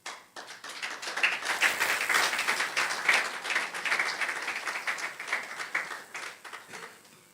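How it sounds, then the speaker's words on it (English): Audience at a hospital anniversary ceremony in Ikeja, Lagos breaks into applause, clapping rising quickly to a steady, moderately loud patter of many hands before tapering off near the end. "an applause."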